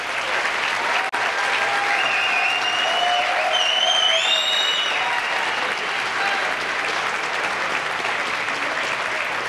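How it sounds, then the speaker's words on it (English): Steady, loud applause with scattered cheers and whistles fills a high school National Honor Society induction ceremony for a graduating class, clapping continuous throughout with no speech over it. "give a nice round of applause and cheer on the incredible Colonia High School chapter of the National Honor Society's Class of 2023"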